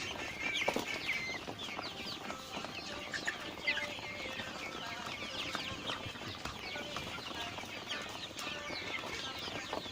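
A flock of 8-week-old Hy-Line Brown laying hens clucking and calling busily, with overlapping bird sounds filling the whole stretch at a steady, moderate level.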